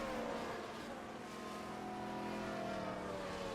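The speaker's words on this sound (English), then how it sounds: "The safety car does have a very different sound to it," Safety car engine in the racing video game F1 Manager 24 at the Saudi Arabia round, a continuous droning hum with slowly shifting pitch, steady and moderately loud with no talking.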